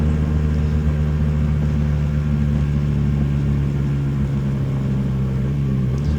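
A Lambretta GP125 scooter engine drones loud and steady while climbing a hill, with a slight shift in pitch as it changes down a gear; continuous, close, no voices.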